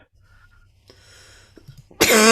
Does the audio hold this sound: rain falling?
no